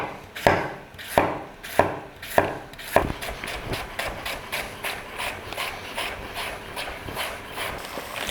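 A sharp knife chops celery on a board, several quick strokes then a steady rapid rhythm of lighter cuts, close and clear with no talking.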